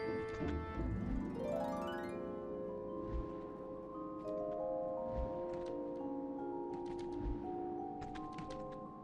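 A frog croaks a few times in Final Fantasy XIV, low brief calls set within layered game music and chiming tones that run throughout.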